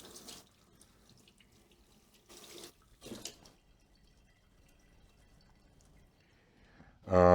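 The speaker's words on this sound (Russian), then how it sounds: "Кинзу я мою, конечно же." Fresh cilantro rinsed under a running kitchen tap, with short splashy bursts of water and quiet gaps between, ending in a louder rush of flowing water.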